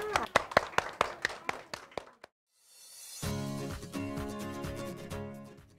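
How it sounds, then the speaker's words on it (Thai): A small audience at a Thai Mother's Day television show claps to welcome a team of hair stylists from a beauty school, a short run of about ten crisp, distinct claps, then a pause before music starts. "ขอเสียงปรบมือต้อนรับนะคะ"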